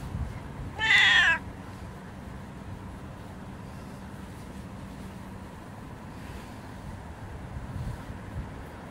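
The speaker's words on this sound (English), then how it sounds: "What a good kitty, Jujube." A cat outdoors in a residential neighbourhood gives a single clear, fairly loud meow near the start, followed by quiet outdoor ambience with no further calls.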